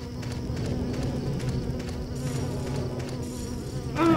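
Flies buzz in a steady, close drone for several seconds in the video game Silent Hill 4, with no voices over the hum.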